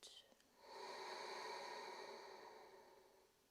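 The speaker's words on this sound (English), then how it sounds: "Gently contracting the back of your throat to find your Ujjayi breath." A long, soft ujjayi yoga breath exhaled through the nose with a hushed, oceanic rasp, swelling and slowly fading, close and quiet.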